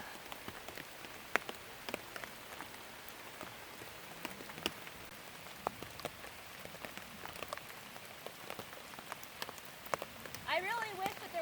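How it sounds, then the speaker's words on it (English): Steady heavy rain patters on leaves and ground, with scattered louder drips landing close by; no voices, just a dense continuous wash of rainfall. "preferably when it's not pouring down rain"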